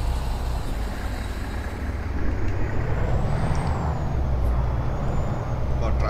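A big International truck in American Truck Simulator starts up and settles into a steady, loud low diesel rumble, with a sharp hiss of air brakes partway through and faint beeps over the engine.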